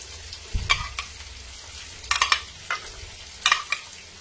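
Onions frying in a pan until golden brown, with a soft background sizzle punctuated by several sharp scraping and clinking stirs from a spoon, close up and without talking.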